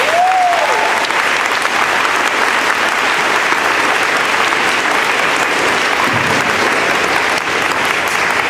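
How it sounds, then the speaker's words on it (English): Sustained, dense applause from a large audience honoring students at an award ceremony, loud and steady throughout with no break, a brief whistle-like tone near the start. "So please give them one more round of applause."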